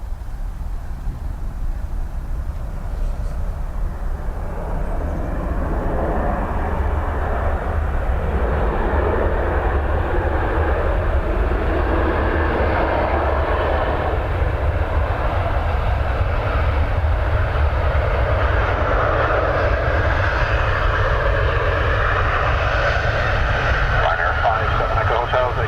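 A Ryanair jet on approach at Dublin Airport gives a steady, broad engine roar that swells slowly over about 25 seconds, with radio chatter from the control tower running underneath.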